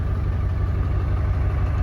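A Ford 7.3 Powerstroke diesel truck engine idles steadily nearby, a continuous low rumbling drone with a faint rhythmic clatter and no change in speed.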